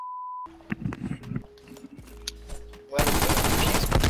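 Vargo 52 rifle fire in the Call of Duty Modern Warfare video game. A beep and scattered game noises come first, then loud continuous automatic fire fills the last second.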